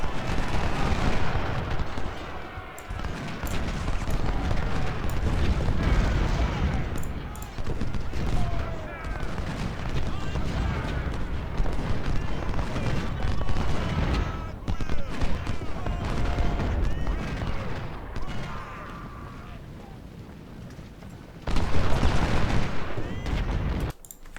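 Musket volleys and artillery from a Civil War battle in Ultimate General: Civil War rumble and crackle continuously, dense overlapping gunfire and booming cannon shots filling the scene, with someone talking over the fighting.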